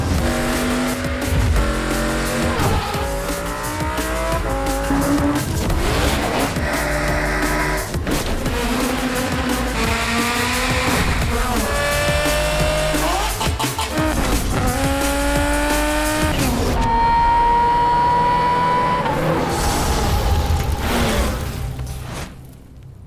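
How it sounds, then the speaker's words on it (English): A Lamborghini Huracán STO's engine roars and revs repeatedly, pitch climbing through gear changes with sharp shifts between, echoing inside a tunnel, ending in a fading rumble. "where we're letting Stig go wild in the world's loudest cars"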